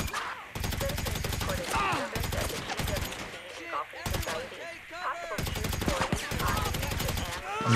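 Rapid bursts of automatic gunfire in the video game GTA V crackle in repeated volleys, punctuated by short gaps, while someone talks in German over the shooting.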